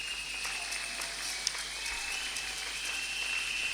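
Church congregation applauding at a first-anniversary service of a small church, a steady, even wash of clapping that holds at moderate, slightly distant level throughout, with no voices on top.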